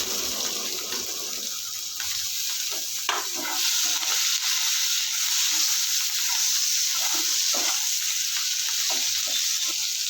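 Fish with garlic and ginger fries in hot oil, giving a loud, continuous close-up sizzle with scattered stirring clatter and no talk.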